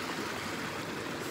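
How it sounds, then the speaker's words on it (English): A river rushes under a bridge on the Six Foot bush track, a continuous close wash of flowing water with a steady broadband roar and no voices over it. "that bridge crosses a river where we should be able to get some water"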